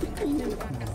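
Pigeons coo in a short, low, throaty burble, close and moderately soft over faint background noise.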